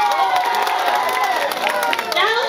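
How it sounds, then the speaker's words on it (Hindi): Audience at an Odia jatra stage show cheering and shouting in a dense, sustained roar that stays loud and steady, with a voice calling out over the crowd. "ताली हे जाऊ"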